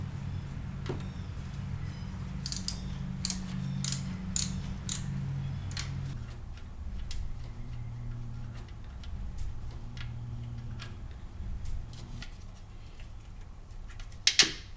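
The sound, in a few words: socket ratchet loosening alternator bolt on 2008 Cadillac CTS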